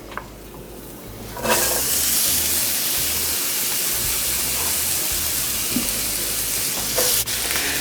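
Mushrooms for a frittata sizzle in a frying pan over medium heat: a loud, steady crackling hiss starts suddenly and carries on close by with small pops.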